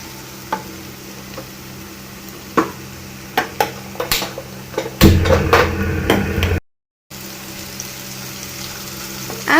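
Onion, green chili and ginger garlic paste frying in a pan for Maggi noodles, with scattered spoon knocks and scrapes and a louder burst of sizzling stirring near the end before a short gap.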